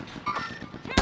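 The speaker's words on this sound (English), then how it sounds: "He's shooting at him, man." Gunfire in the battle-royale shooter Call of Duty: Resurgence, with several short thumping reports over a low rumble and a loud burst at the very end, in a one-second stretch with no talking.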